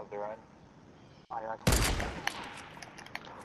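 A distant gunfight in Fortnite Battle Royale, with sudden bursts of rapid gunfire breaking in after a quiet stretch, then scattered sharp shots continuing in the background while players talk over it.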